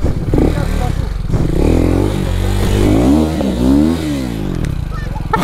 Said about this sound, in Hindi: भाई, बाइक स्टार्ट भी नहीं हो रही।